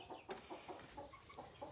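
Several chickens, a hen with young chicks, cluck and peep softly inside a farm chicken house, quiet overlapping short calls in close succession.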